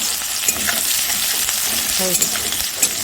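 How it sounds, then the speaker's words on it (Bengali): Onions for an egg curry sizzle and fry in a pan until browned, a steady crackling hiss with occasional stirring clinks and sharper pops. "একবারে পেঁয়াজটা সুন্দর করে ভেজে নেব"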